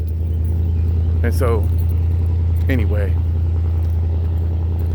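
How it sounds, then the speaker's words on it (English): A car engine runs with a steady low, loud rumble through the whole stretch while someone talks over it at close range. "excuse the noise of the car cranking up."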